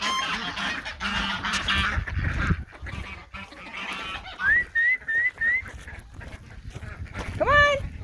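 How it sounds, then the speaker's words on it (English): Farmyard ducks and geese honking and quacking loudly nearby at feeding time, a busy overlapping chorus with a few distinct rising honks and some background clatter. "The ducks and geese are none too happy that I fed the chickens without feeding them."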